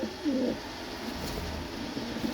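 A Brahma pigeon coos softly nearby, a low throaty rolling call near the start followed by quieter murmurs, with no talking.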